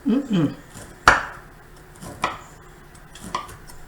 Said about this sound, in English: you take the little loaf and you cut it